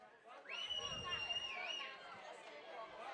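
A baseball crowd in Healdsburg at a Prune Packers home game murmurs and chatters at moderate distance after the visiting Crabs take the lead, with a whistle-like tone rising briefly above the babble.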